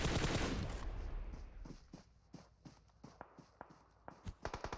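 Loud crowd roar or blast at the start fades into a string of sharp gunshot cracks and bursts, some rapid and clustered, as bullets strike a BTR armored vehicle during a PUBG Mobile esports match.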